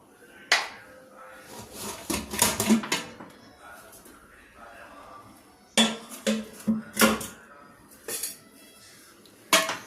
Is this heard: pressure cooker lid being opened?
yes